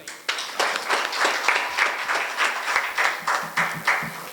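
Indoor audience clapping at a wellness forum's new committee induction ceremony, honouring the board of directors: a steady, moderately loud round of many hands with a few sharper individual claps rising above it, no talk over it.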